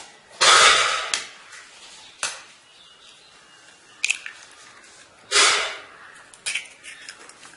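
Two eggs cracked and poured into a bowl of salted mixture, with several separate wet cracks and squishy pours, some louder splashes near and close, with quiet gaps between.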